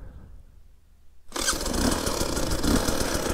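A moped engine murmurs quietly, then bursts into a loud, sustained revving roar held on the throttle, close and raspy, continuing to the end without speech.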